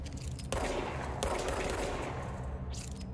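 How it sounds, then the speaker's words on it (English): Bursts of gunfire in the game Control shoot up paintings, with rapid loud shots in a dense cluster, a brief lull, then another burst and a short final volley, close and without talk. "You can shoot up the paintings."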